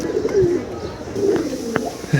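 Pigeons in a home loft coo softly and repeatedly at close range, their low, rolling calls overlapping against a steady background hum, with no talking.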